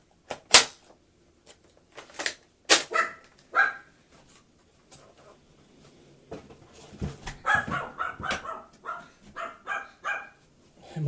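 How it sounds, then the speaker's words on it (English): A dog barks repeatedly indoors, with sharp isolated barks early, then a denser run of yaps and barks, fairly close, while someone talks between and under them. "And my dog's throwing another hissy fit"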